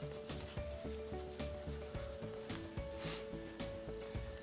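A dry cloth rubs back and forth over a video game cartridge in quick, steady strokes, a close, soft scrubbing with repeated rhythmic swipes.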